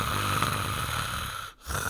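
A voice imitating a dad snoring, a rough, rattling drawn-out snore that cuts off sharply near the end with a brief gasp before resuming.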